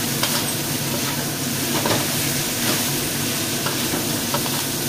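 Dry-fried green beans being stir-fried in a wok, with a steady close sizzle and hiss throughout and faint scraping stirs of the spatula.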